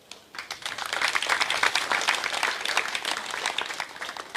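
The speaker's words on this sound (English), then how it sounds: "could you please give us a round of applause?" Audience applause at the launch of a transport company's Taamo card, a steady burst of many hands clapping that swells after a quiet start and holds at a moderate level throughout.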